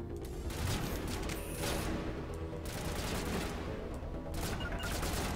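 Pistol fire in the video game Mass Effect Legendary Edition: rapid bursts of shots crackle amid mechanical clicks and clatter, loud and dense, with short gaps between volleys.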